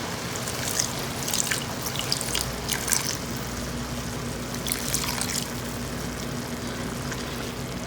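A cup of water poured into a cooking pot holding kheema on medium heat, giving a soft, continuous trickle and splash of moderate level for several seconds, with no talking.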